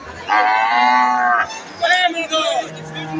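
Cattle at a livestock market at Ambari haat call out in two loud, close moos, a long drawn one then a shorter wavering one, with faint crowd murmur behind.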